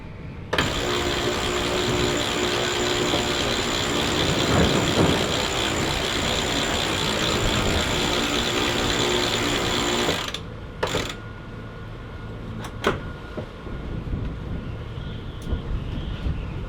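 Sailboat motoring on engine power through a lagoon, a steady droning engine rumble with mechanical rattle for about ten seconds, then quieter engine noise with scattered clunks and knocks.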